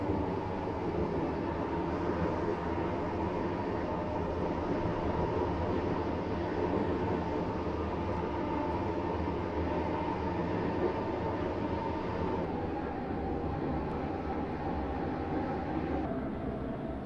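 Class 345 Airlink shuttle train in the SCR video game running steadily with a dense, continuous rumbling rail roar and no voices over it.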